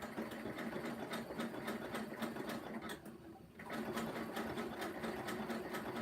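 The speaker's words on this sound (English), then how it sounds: "just centering the two ropes and sewing along" A sewing machine zigzag-stitches along two ropes for a rope basket, its needle clattering in a fast, even rhythm with a short slowdown midway, close and unbroken, with no talking.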